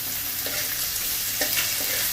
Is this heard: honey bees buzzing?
no